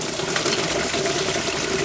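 Thermocure coolant flush mixed with water is poured steadily into the cooling system of a 1988 Isuzu Trooper, a continuous close-up splashing and gurgling flow with no talk.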